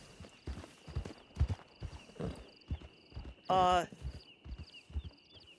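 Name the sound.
horse hooves clip-clopping as horse is led to stable, video game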